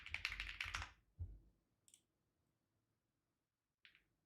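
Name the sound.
typing on a computer keyboard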